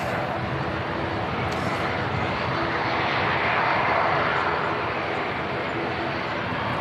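A British Airways Airbus A320 on its takeoff roll at Manchester Airport, a sustained jet engine roar building slightly in the middle, heard at moderate distance and fairly faint overall.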